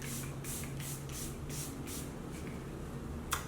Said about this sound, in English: I'm just going to go in with my Charlotte Tilbury setting spray.